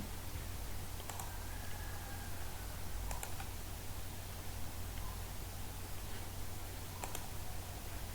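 Soft, sparse computer keyboard taps sit over a steady hiss of background noise as comments are typed into an Excel sheet, with a few distinct clicks spaced out across the stretch.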